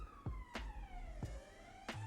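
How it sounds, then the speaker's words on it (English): A police or emergency vehicle siren wails past at a distance with a falling pitch, faint beneath several sharp nearby knocks. "Siren going past there, that's cool."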